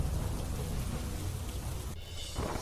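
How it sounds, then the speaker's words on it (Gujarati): Heavy monsoon downpour pounds steadily in Kadi, Mehsana, a dense loud wash of rain with no break and no voices. "મહેસાણાના કડીમાં ખાબક્યો ધોધમાર વરસાદ."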